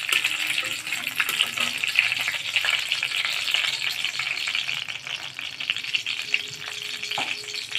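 Bay leaf and dried chilli fry in hot oil in a home kitchen, giving a continuous close sizzle with occasional clinks and scrapes of stirring throughout.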